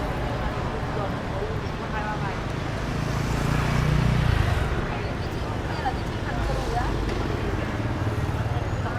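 Dense Hanoi street traffic with motorbikes and cars streaming past, a steady broadband roar that swells briefly in the middle, with a voice talking over it.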